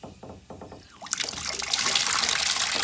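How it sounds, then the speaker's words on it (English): Water from a turned tap pours into a bucket at a pottery sink in a converted shed, building from a faint trickle to a loud, steady rush that holds to the end. "and water goes in the bucket."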